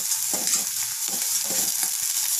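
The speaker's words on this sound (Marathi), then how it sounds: "मसाले व्यवस्थित फ्राय झालेले आहेत।" Garam masala, onion-garlic masala and a pinch of turmeric fry in a pan with a close, continuous sizzle. A spoon stirs in a rhythmic scraping pattern several times over roughly two seconds.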